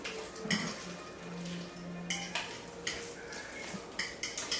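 A spoon stirs chunky homemade guacamole with tomatoes, onions and jalapeno in a bowl, making scraping strokes and a series of close, light clinks against the sides.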